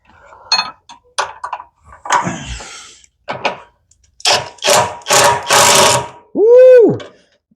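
A small impact wrench tightens bolts on a Badlands Apex 5500 winch being installed on a Can-Am Defender, sounding loud, close bursts of hammering followed by a rising and falling motor whine, after a few short clatters and sounds at the start.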